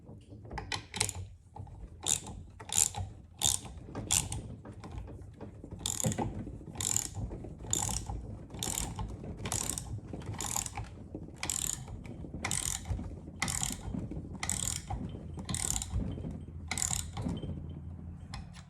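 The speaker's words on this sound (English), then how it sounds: "run your nut back down on it, and then want to tighten it up a little bit" A hand ratchet tightens a nut on a valve spring compressor set on a big block Chevy cylinder head, giving a long, steady run of crisp, close clicking strokes with brief pauses between them.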